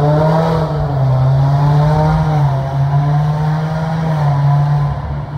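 A 2019 Subaru WRX with a turbocharged 2.0-liter four-cylinder boxer engine runs close by, giving a loud, steady drone whose pitch wavers slightly with small throttle changes.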